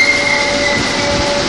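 A Merseyrail Wirral Line train running through the underground platform at Moorfields station, a loud, sustained rumble of wheels and motors with a faint steady whine overhead.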